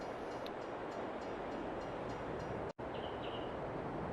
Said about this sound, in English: So here we are, folks, and the train is coming.